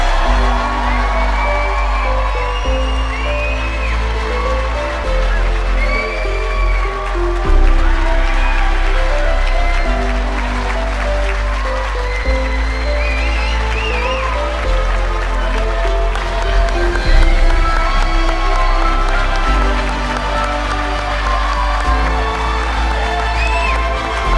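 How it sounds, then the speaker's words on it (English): An auditorium audience at an eighth-grade commencement applauds and cheers for the graduating class for a long stretch, with whoops and shouts rising over a continuous background of music. "let's hear one final applause for your class of 2027"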